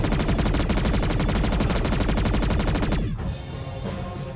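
An M60 machine gun fires in a zombies video game, a loud, rapid, evenly spaced burst of shots lasting about three seconds before cutting off into a quieter game background with no talking.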